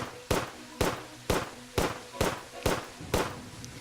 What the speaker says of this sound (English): Let's go fire off a couple shots.